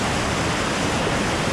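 A waterfall beside a dark mossy gorge on Vancouver Island gives a dense, steady roar of rushing water, close and unbroken, with no voices.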